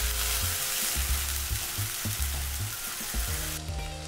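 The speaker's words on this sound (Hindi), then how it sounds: "गार्लिक को लाइटली फ्राई कर लीजिए. अब हम इसमें ऐड करेंगे टोमेटो प्यूरे." Tomato puree sizzling on frying onions and garlic in a pan, a close, steady hiss with low, bubbling, irregular pulses and a sharp drop near the end.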